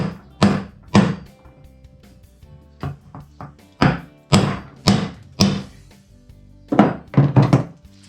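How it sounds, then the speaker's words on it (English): Hammer blows driving a universal joint cap into place, a series of sharp, close metallic-wooden thunks in uneven clusters with brief pauses, some quicker taps between heavier strikes, without talk. "now we'll pound this cap in, finish pounding it in"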